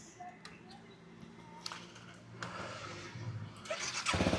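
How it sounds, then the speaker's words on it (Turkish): A Honda scooter that has stood unused for about a month is cranked over and fires up, starting as faint clicks and ticks and building into a steadier, louder idling engine by the end, with low talk underneath. "Biraz hem yağlansın motoru hem e, aküsü için faydalı."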